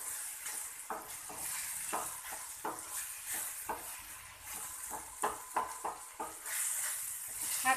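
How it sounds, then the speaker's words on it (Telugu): Mushrooms fry in a pan for a mushroom and tomato curry, with a gentle continuous sizzle under repeated close scraping strokes of a spoon stirring them. "మష్రూమ్స్ యాడ్ చేసుకోవచ్చు అండి."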